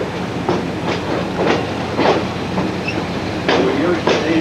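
A train rolls past in the industrial area of St. Thomas on the St. Thomas to Ingersoll line, wheels clacking in a regular rhythm over the rail joints, close and steady, with faint squeals.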